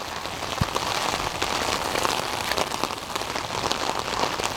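Steady rain pours onto a flooded street at the end of a road in Cypress, Orange County, during a 2010 storm, a dense, even hiss of drops striking water and pavement, with one brief low thump early on.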